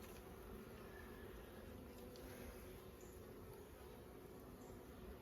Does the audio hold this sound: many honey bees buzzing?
yes